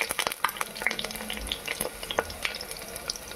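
Ginger garlic paste and onion fry in hot oil in a cooker, a dense crackling sizzle with frequent spatters and repeated scraping stirs, close and busy, with no voices.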